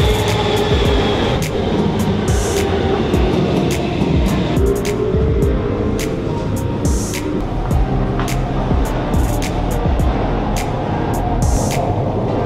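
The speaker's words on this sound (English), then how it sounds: "Now I'm switching the bus to the subway to get to the office." A Helsinki subway train is ridden on a commute to an office, giving a loud, steady rumble of wheels and motor with regular clicking rail joints throughout.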